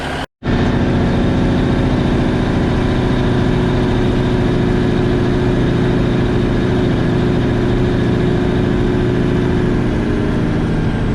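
A truck's Cummins 855 small cam diesel engine with new injectors drones steadily and loudly, close up and unbroken, while pulling a load on a test drive, and no one speaks.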